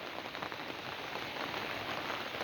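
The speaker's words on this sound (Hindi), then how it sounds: "बरसात का दृश्य," Heavy monsoon rain falls in Uttarakhand, a dense, constant hiss of drops hitting surfaces that stays steady and fills the whole stretch, with no voices.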